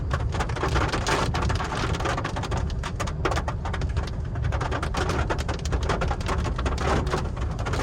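Heavy rain pours down steadily and loudly, a dense continuous patter of drops drumming on surfaces throughout, with no voices.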